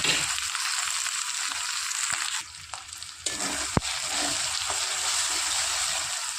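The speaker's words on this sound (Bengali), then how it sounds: "আর মশলাটা হালকা আঁচে কষাবো।" Spice paste sautéing in a pan on low heat for an egg dish, a steady soft sizzle with a brief drop and the occasional clink of a stirring utensil.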